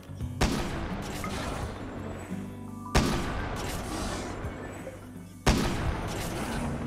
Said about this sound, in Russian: Несколько метких выстрелов, и он падает сраженный.